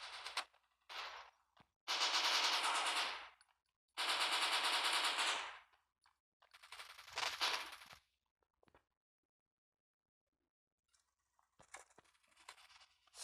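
Sustained automatic bursts from an AK rifle in the shooter game Bullet Force, several long, loud rattling volleys separated by short gaps and near silence, followed by fainter scattered shots at the end.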